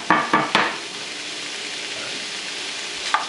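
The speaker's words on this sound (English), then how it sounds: "You put your sausages into a saucepan over medium heat." Sausages sizzle in a saucepan over medium heat, a steady frying hiss under several sharp clacks of a utensil against the pan at the start and one more near the end.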